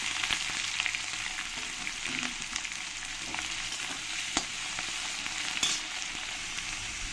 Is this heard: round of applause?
no